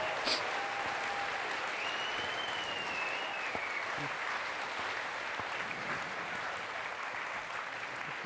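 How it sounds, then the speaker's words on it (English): Steady, dense applause from a large audience at the RuneFest 2019 RuneScape keynote, continuous and even throughout as presenters come on stage. "Please do give them all a round of applause."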